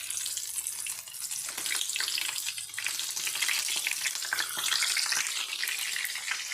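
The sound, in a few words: stuffed snake gourd frying in oil in a pan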